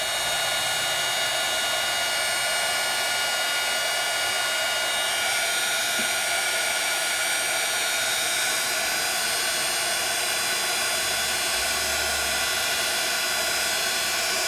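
A heat tool warming embossing powder on a die-cut card gives a steady, close airy blowing hiss that runs unbroken throughout, with no talking.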